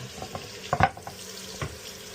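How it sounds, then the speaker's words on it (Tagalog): Garlic sautés in a pan as a few soft, scattered sizzles and stirring scrapes, quiet and close with no voices. "Lutuin po muna natin masyado tong bawang hanggang siya po ay maging aromatic."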